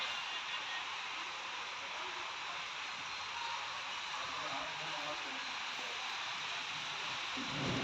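Heavy rain pours down outdoors in Punjab as a steady, dense hiss of broadband noise that fills the whole stretch without a break.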